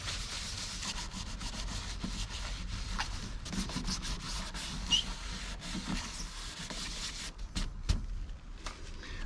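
A rag rubs steadily back and forth over a surface to wipe off WD-40 residue and degrease it, a continuous close scrubbing with a few light knocks, no voices.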